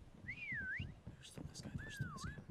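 Two rising-and-falling whistle glides, one early and one near the end, sound as a taunt in a prop hunt video game, with a player's voice talking underneath throughout.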